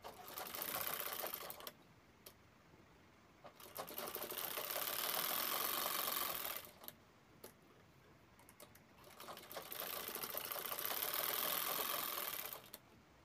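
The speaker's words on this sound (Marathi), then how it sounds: "असा फोल्ड करून बंद करून शिवून घ्यायचा आहे आणि चारी बाजूला टिप मारायची आहे" Sewing machine stitching a folded tote bag shut with edge stitches, heard in three long loud bursts of steady rapid whirring, separated by quiet pauses with brief clicks.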